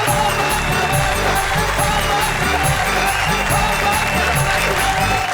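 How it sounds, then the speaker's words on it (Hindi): An audience at a Hindi poetry stage show applauds loudly to welcome a performer. The clapping is dense and sustained, with some crowd cheering, and stays at a constant level from start to finish. "जोरदार तालियों से स्वागत करें।"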